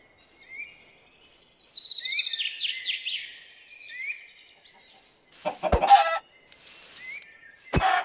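Blocky video-game chickens in Minecraft cluck in short, sharp, high bursts, spread through a quiet scene with a few abrupt clicks and thumps between them.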